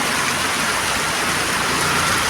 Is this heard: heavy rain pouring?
yes